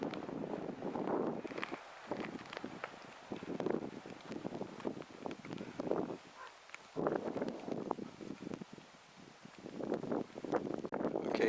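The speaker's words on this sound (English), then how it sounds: "out here the wind is funneled through, so it's probably going to be really noisy wind-wise." Gusty wind funneled through a canyon at Colorado National Monument, buffeting the microphone in irregular loud rumbling surges with brief lulls.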